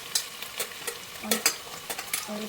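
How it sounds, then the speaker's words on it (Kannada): Onions and avarekalu (field beans) fry in a pan while being stirred, giving a string of crisp scraping strokes every half second or so over a soft, low sizzle, close and fairly quiet with no talking. "ಇದು ಅವರೆಕಾಳು ಇರೋದ್ರಿಂದ ಆನಿಯನ್ ಜೊತೆ ಫ್ರೈ ಆಗಿ ಚೆನ್ನಾಗಿ ಫ್ರೈ ಆಗುತ್ತೆ."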